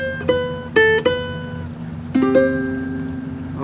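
Fingerstyle ukulele playing: a few single plucked notes ring out clearly and sustain, first a short run of three, then after a pause two more, with no talking.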